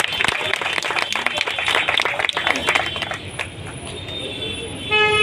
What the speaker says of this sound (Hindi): आनंद सर के लिए जोरदार तालियां बजाएं।